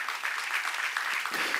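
A church congregation applauds steadily and close, with dense sustained clapping filling the room.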